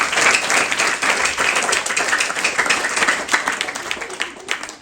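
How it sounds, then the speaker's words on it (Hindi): An audience at a spiritual gathering claps loudly and steadily, a dense crackle of many hands that keeps going for several seconds. "तो हमारे दीदियों के लिए जोरदार ताली बजा दें आप लोग।"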